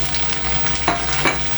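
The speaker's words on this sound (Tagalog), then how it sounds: "Lutuin natin ng mabuti guys yung kamatis." Tomatoes fry with bagoong alamang shrimp paste and a little chili in a pan, a steady close sizzle with a couple of brief stirring scrapes, no talking.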